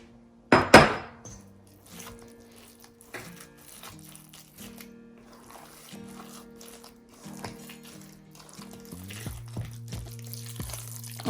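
Ground beef topping for lahmacun being mixed in a bowl: a sharp clatter at the start, then a steady run of soft squishing and scraping with faint clinks, fairly close, no talk.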